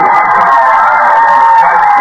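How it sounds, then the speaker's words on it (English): A large crowd cheers and whoops at an evening sporting event between the Brooklyn Debutantes and the Dead End Girlies, a loud, continuous roar with voices blending into a steady wall of noise. "Listen to the cheers."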